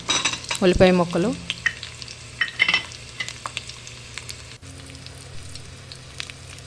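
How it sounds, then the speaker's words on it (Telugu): Green chilies, curry leaves and garlic hit hot oil in a pan with a loud sizzle at first, then onion pieces go in. Steady frying crackle follows, with spoon scrapes and clinks of a stirring utensil. "పచ్చిమిరపకాయలు, కరివేపాకు, ఎల్లుల్లిపాయలు వేసి కొద్దిగా వేగనిచ్చి తర్వాత ఉల్లిపాయ ముక్కలు"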